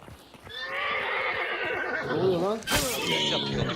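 A horse whinnies loudly and at length in the video game Hunt: Showdown, with hoofbeats clattering and a sharp burst partway through.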